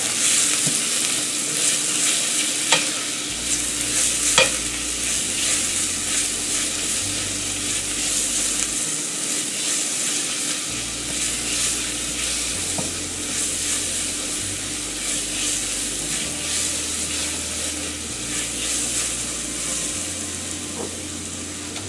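Onions sweat in oil for a quick sauté before a béchamel, giving a loud, continuous close sizzle with occasional faint stirring clicks and no talk.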